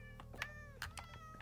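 A cat meowing in Minecraft, two or three short, faint, thin meows over a quiet background hum, with no talking.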